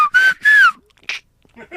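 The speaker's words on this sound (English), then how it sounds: "This is something that only Mexican people can do, and it's amazing that whistle." A person gives two loud, sharp whistles with a rising-then-falling pitch glide, each lasting a fraction of a second, followed by brief faint voices.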